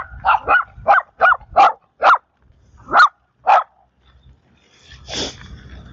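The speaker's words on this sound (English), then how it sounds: "there comes those little dogs" Small dogs bark near a road, a quick run of eight sharp yaps in an uneven rhythm, then a pause and one more softer, breathier bark.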